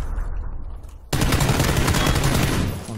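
Video game gunfire: after a quieter stretch of distant shots, a sudden loud burst of sustained automatic fire erupts and continues densely to the end.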